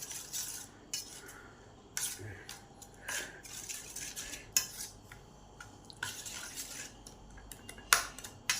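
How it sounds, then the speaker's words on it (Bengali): Eggs being beaten by hand in a bowl with chopped onion, ginger and green chili, a quick irregular clatter of utensil against the bowl sides, close and fairly faint, with pauses between bursts. "এবার এই পেঁয়াজ, আদা, লঙ্কার সঙ্গে ডিমগুলোকে ভালো করে ফেটে নেব।"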